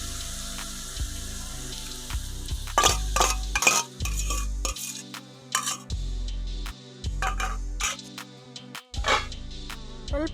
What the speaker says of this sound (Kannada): ಮೊಟ್ಟೆ ಹೊಡ್ಕೊಂಡು ಮೊಟ್ಟೆ ಹಾಕ್ತಾ ಇದ್ದೀನಿ.